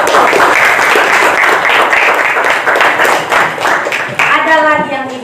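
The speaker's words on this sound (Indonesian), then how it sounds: "Dulu tepuk tangan dulu." A classroom of students claps hands loudly and steadily for several seconds, then a voice starts speaking as the clapping fades.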